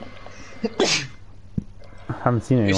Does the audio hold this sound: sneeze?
yes